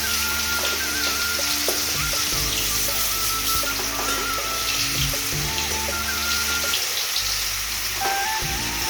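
Pointed gourd frying in oil: steady sizzle with a constant bright hiss and scattered crackles, close and continuous, no voices.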